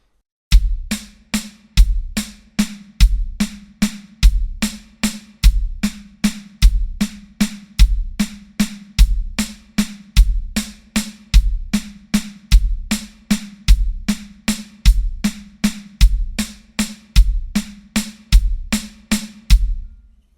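Drum kit linear triplet pattern, bass drum on downbeats alternating with right-left snare strokes, played slowly and evenly as a steady repeating rhythm, close and loud with no talking.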